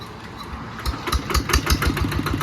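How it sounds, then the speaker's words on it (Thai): A Siam Kubota RT100 walk-behind tractor's small engine chugs steadily nearby, its rapid pulsing rhythm rising and falling slightly in loudness, with no voices present. "พามาดูรถไถเดินตามครับผม"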